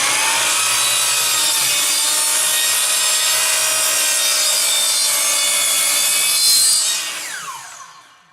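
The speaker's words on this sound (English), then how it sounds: "Now to make another cut, you simply slide that over, hold it down with your hand, and make the cut." A miter saw with a hold-down attachment slices thin wood strips, a loud steady high whine of blade on wood running for several seconds before winding down and fading out.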